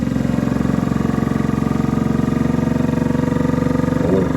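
An Anova chamber vacuum sealer runs its pump, a loud, close, steady pulsing motor drone with a fast regular throb that holds for several seconds.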